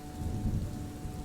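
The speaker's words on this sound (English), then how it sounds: "The rain fell steadily, each droplet creating tiny ripples that shimmered like silver threads on the water." Steady rain falls on a Scottish loch at night, a soft continuous hiss with a low thunder rumble underneath. Both sit faint and distant, with no voices.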